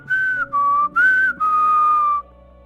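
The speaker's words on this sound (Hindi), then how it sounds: "सीटी बजाते हुए बुक को अपने हाथों में दबाता है और चल जाता है।" A cartoon character whistles a short tune while walking away with a book, four clear sustained notes close and loud, the last one held longest, and nothing else audible.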